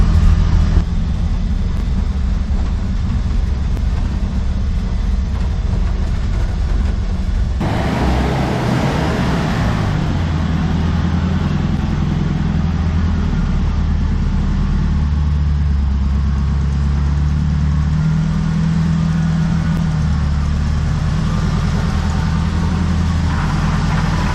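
A 1966 Chevy C30 dually truck, sitting for 15 years, runs on a test drive: a loud, continuous close engine rumble with a shift in tone partway through, no voices.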